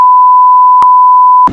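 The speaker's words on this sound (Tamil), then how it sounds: "நான் பீப் போட்டுருவேன், அவ்வளோதான்." Loud continuous censor beep, a single steady pure tone lasting about one and a half seconds, with a short click partway through and a cutoff at the end.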